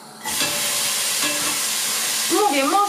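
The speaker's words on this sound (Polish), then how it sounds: "Podsmażamy." Food frying in a pot for a quick bean soup, a steady broadband sizzle and hiss that starts after a brief quiet moment and keeps going, with a faint voice briefly coming in near the end.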